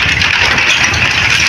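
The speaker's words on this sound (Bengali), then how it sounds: "বাঁশের সেতু দিয়ে মোটরসাইকেল পার হচ্ছে।" A motorcycle crossing a bamboo bridge over the Dhaleshwari River, its engine a steady, close, loud drone with a faint rattle throughout and no voices.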